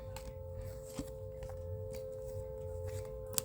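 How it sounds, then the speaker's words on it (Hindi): Tarot cards being shuffled by hand, giving soft, faint riffling and tapping sounds at irregular intervals over a steady tonal hum, with one sharper snap near the end and no one speaking. "last shuffle"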